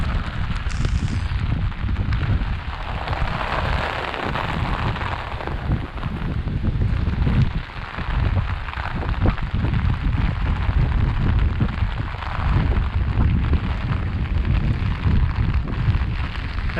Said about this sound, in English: Wind keeps blowing my umbrella inside out.